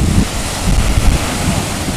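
Ocean waves wash in at the shore as a loud, continuous roar of surf, buffeted by heavy wind noise on the microphone.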